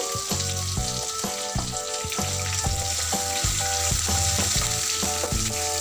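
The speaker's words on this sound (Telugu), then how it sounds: "నెక్స్ట్ క్రష్ చేసి పెట్టుకున్న వెల్లుల్లిపాయలు వేసేస్తాము" Crushed garlic sizzles steadily in a hot oiled pan along with chana dal and green chillies for spinach palak rice, a dense continuous frying hiss with a repeating rhythmic tonal pattern in the background, close and fairly loud.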